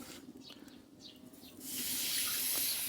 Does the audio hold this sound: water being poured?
yes